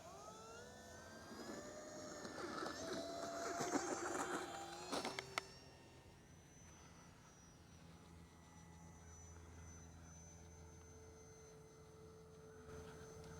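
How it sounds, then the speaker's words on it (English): An FMS SkyTrainer 182 RC plane on its maiden flight gives off a rising electric motor whine that builds for a few seconds and then fades to a faint, distant hum as it climbs away. "here we go with the maiden flight of the FMS SkyTrainer 182"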